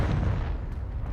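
A Confringo blasting spell explodes in Hogwarts Legacy, one loud, close, booming burst that rumbles and fades over about a second.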